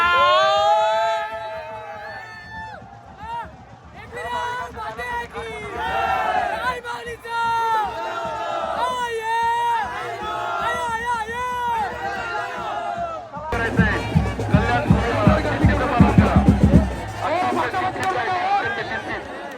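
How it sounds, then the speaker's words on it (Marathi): A dense crowd shouts, chants and chatters at the Ekvira temple palanquin procession of the Kalyan Koliwada group, voices overlapping near and far, swelling into louder cheering and rhythmic clamor in the final seconds. "गर्दी नुसती गर्दी नुसताच राडा"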